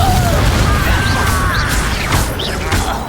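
A Confringo fire spell is cast in the Hogwarts Legacy wizard combat game: whooshing casts and chirping magical streaks over a continuous rumble, with soft boom-like impacts, loud and busy throughout.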